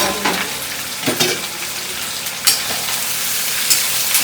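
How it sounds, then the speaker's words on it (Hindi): Onions frying in a pan give a loud, continuous sizzle with scraping stir strokes breaking through every second or so, close up and with no talk. "पहले प्याज को फ्राई कर देते हैं"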